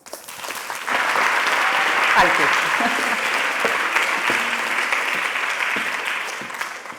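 A crowd applauds a speaker taking the stage at a talk, sustained clapping starting after a second and holding steady, with a brief spoken thanks over it.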